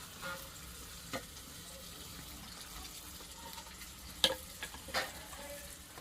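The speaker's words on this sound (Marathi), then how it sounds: "वाटण टाकून घेते आता." Ground masala paste for a fish curry frying in a pan, a faint steady sizzle with occasional soft clicks of stirring, no voices.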